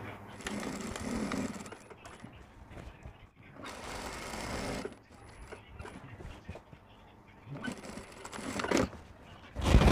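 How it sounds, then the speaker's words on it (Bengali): A sewing machine top-stitches kurti fabric, running in three separate whirring bursts with quieter pauses between them, ending in a louder clatter. "এটা এখন উপরে সেলাই দিয়ে একটা চাপ সেলাই মেরে দেব এর উপর দিয়ে"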